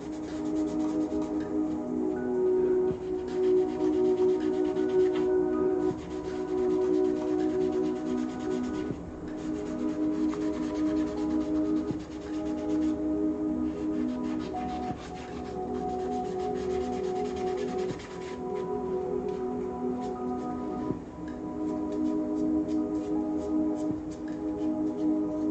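Sanding a primed 3D print by hand: a steady, continuous rubbing abrasion close up, with rhythmic back-and-forth strokes going on without a break for the whole stretch, fairly loud and with no talking.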